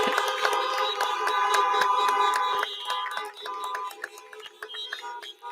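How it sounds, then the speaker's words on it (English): Several car horns honk together, blaring in overlapping blasts, with scattered shouts and cheering mixed in from an outdoor drive-in college graduation ceremony. "Please join me in a round of applause, honking on horns, and flashing your headlights"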